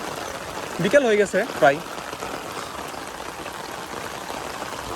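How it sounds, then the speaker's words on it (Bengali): Heavy rain pours onto the water of Jhalshuka beel during a hook-fishing outing: a steady, even hiss of downpour throughout, with someone speaking briefly near the start. "খুব জোরে বৃষ্টি হচ্ছে"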